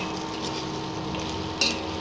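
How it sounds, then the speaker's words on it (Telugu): Drumstick pieces for sambar fry in a pan with a steady, close sizzle throughout and a brief louder burst of hiss near the end, with no voices. "ఇంకా మునక్కాడ ముక్కలు, ఇవన్నీ వేసుకొని మంచిగా ఫ్రై చేసుకోవాలి."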